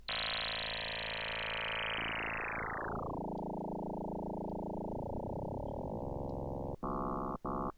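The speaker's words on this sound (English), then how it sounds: "you can hear I'm changing the pitch here." A buzzy Korg Electribe Wave synthesizer tone whose modulation pitch sweeps down and wobbles, settling lower before a few short stuttering bursts near the end.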